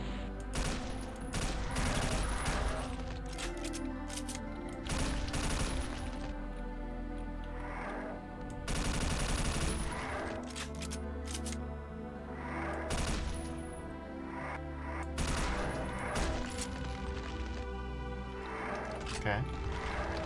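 Gunfire in the video game Forlorn vs. Operation Deadlock, with repeated bursts of shots and rattling fire across the stretch, loud and close, while a voice talks over the action throughout.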